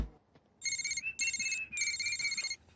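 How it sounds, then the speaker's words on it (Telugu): An incoming-call ringtone on a mobile phone in a Telugu comedy film scene, a bright electronic melody ringing loud and close in three bursts over about two seconds, with no talking. "ఈ పొట్టోడు ఎప్పుడు పనిలో ఉన్నప్పుడే ఫోన్ చేస్తాడు"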